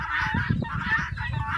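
Guinea fowl call loudly nearby, a harsh, repeated honking cackle in quick bursts.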